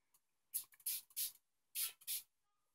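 A spray paint can fires onto sticky tape in five short, sharp hissing bursts, each about a quarter second, close up and separated by brief silences, with no talking.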